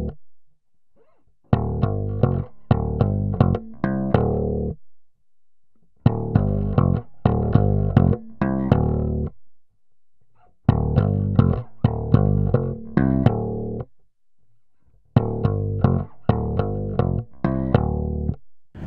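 Slap bass played with the thumb: a punchy, percussive riff repeated four times with short pauses between phrases.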